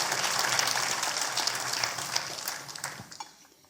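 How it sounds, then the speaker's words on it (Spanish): Church congregation applauding during a Sunday service, a broad wash of clapping that holds steady for about three seconds and then thins out and fades. "Dele el aplauso al Señor."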